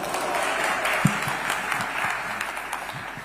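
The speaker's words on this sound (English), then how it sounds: "Another round of applause for His Excellency Raila Odinga" Steady applause from a large audience follows a speech by Raila Odinga at Tom Mboya University, a dense continuous clatter of many hands holding level throughout without fading.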